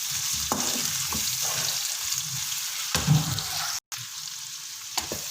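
Onions fry in a pan with a steady soft sizzle, broken by occasional stirring clatters and a brief dropout, close by.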